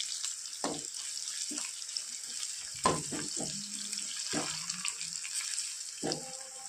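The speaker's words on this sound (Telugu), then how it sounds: "సో దానికి నేను 500 ml వాటర్ పోసుకుంటాను." Water, 500 ml for semolina upma, is poured into a pan with a quiet, irregular splashing, a few louder gurgling bursts and short clinks breaking a soft continuous hiss.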